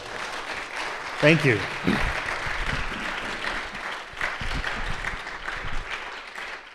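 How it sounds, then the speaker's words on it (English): Round of applause from the audience at a training session on confronting Christian nationalism in Tucson, Arizona, steady moderate clapping throughout, with a brief spoken thanks near the start. "We get a big round of applause for Doug, Rob, and Dan."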